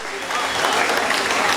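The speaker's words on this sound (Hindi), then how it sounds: "तो एक बार अपने अपने हिस्से की तालियां बजा दीजिए" Audience applause at a Hindi comic poetry gathering (hasya kavi sammelan), a dense, steady wash of many hands clapping at once, loud and sustained throughout without any pause.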